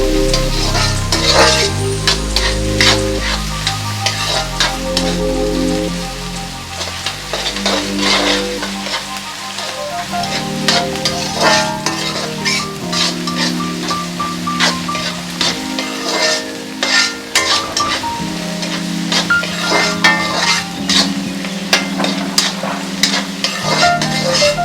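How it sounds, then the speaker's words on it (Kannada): Ginger garlic paste is tossed and fried in a pan for fried rice, with a loud close sizzle and frequent scraping stirs throughout, and a steady tone running underneath. "ಸ್ವಲ್ಪ ಚೆನ್ನಾಗೇ ಟಾಸ್ ಮಾಡಿ, ಜಿಂಜರ್ ಗಾರ್ಲಿಕ್ ಪೇಸ್ಟ್ ಹಸಿ ವಾಸನೆ ಹೋಗೋವರೆಗೂ."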